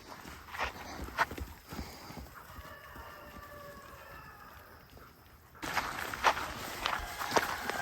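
Light scattered footsteps of goats moving over ground toward brush, with soft bird-like calls in the background and a brief burst of rustling near the end.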